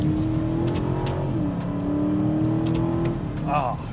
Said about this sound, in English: when I shove it in sport, the V8 starts to really sing